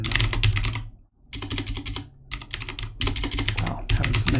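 Fingers type on a computer keyboard, rapid clattering bursts of close keystrokes separated by short pauses, with no talking.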